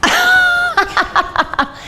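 A short burst of vocal sound followed by a series of quick, choppy exhalations, like a cough trailing into breathy laughter, close and fairly loud.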